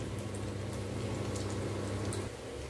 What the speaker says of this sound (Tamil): நல்லா பொரிய விடுங்க.